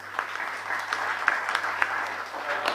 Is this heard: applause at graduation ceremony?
yes